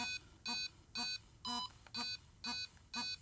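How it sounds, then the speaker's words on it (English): Roadie 3 tuner's metronome sounds a bright electronic beep, seven evenly spaced pulses about half a second apart, quiet and alone against a faint background. "The next feature that it has here is the metronome"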